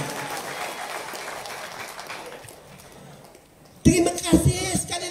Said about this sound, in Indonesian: Bagi tepuk tangan untuk sendiri.